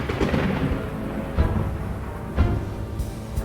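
A thunderstorm sound effect in a children's read-aloud dinosaur story gives a steady low rumble of rain and wind, with two heavier thunder booms rolling in a second apart. No one speaks.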